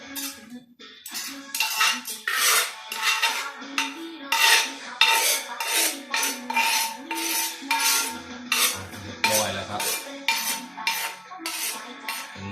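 Pounded Isan-style rice noodle salad is scraped and poured out of a mortar with a utensil, giving repeated close scraping, clinking and wet clattering strokes in a steady rhythm with no talk.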